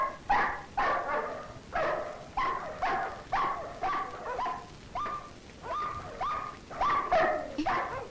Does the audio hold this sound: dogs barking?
yes